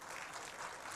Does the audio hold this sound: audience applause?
yes